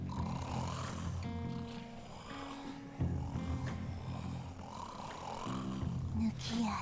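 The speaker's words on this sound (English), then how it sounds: "A lot of snoring." A guard snoring in the stealth video game Shadow Tactics, steady rasping snores repeating over a bed of game music and ambience.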